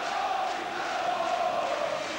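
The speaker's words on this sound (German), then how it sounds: "Und die Fans feiern ihren ECD" Ice hockey fans in the stands roar and cheer in one continuous wash of crowd noise, steady and fairly loud with no clear breaks, for the ECD Iserlohn club at a 1986 semifinal.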